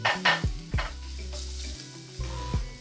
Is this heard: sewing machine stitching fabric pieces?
no